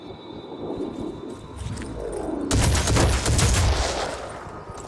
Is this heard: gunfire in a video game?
yes